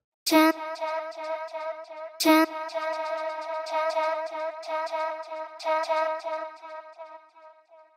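A vocal sample with a multi-tap delay in Groove Agent SE, sharp attacks followed by trailing echoes that overlap and fade, three bursts over a sustained tonal bed.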